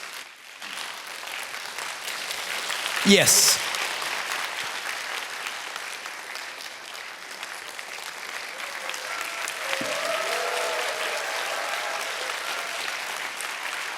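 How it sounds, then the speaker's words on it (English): Audience applause at a Korean spiritual talk event, a broad steady wash of many hands clapping that stays fairly even throughout, with a brief sharp burst near the start and a faint voice or two underneath. "That means applause."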